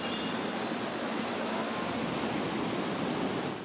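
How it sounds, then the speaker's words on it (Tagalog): Floodwater gushing from a flooded basement onto a street in Manila as it is pumped out, a loud, steady, broad rushing roar with no break. "bumulwak na ang tubig sa kalsada galing sa binahang basement"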